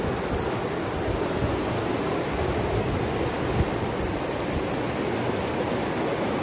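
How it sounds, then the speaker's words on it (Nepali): A steady, broad rush of flowing water, loud and constant throughout with no pauses, like a big river running close by. "कस्तो ठुलो खोला छ"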